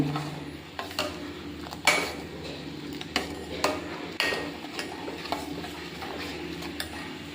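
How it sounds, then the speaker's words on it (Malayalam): A spoon clinks and scrapes against the inside of a vessel while sugar is stirred into coffee, giving a series of sharp, irregular taps and swishes at close range with no voices. "അപ്പോൾ അതിട്ടിട്ട് നമ്മൾ നന്നായിട്ട് ഇളക്കുന്നു"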